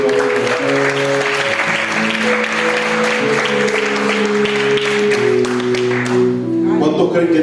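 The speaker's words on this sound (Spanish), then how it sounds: "denle un aplauso a Jesucristo." Church congregation at a Panamanian worship service claps loudly and continuously, with sustained music tones running underneath the applause.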